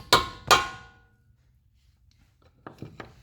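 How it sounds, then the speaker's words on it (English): A hammer strikes a chisel set into the cutaway of a Mazda CX7 front lower control arm ball joint: two loud metallic blows close together, then quiet, then a few lighter knocks and clinks. "By placing the chisel just in that cutaway, giving it a couple of half decent taps."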